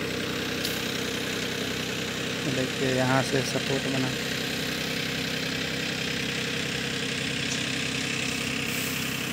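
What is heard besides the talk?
tractor engine running while pulling a tower section with rope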